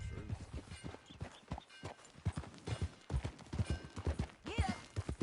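Hooves of a horse clip-clopping in Red Dead Redemption 2, a rhythmic series of sharp close hoofbeats at walking pace, heard alone and clear.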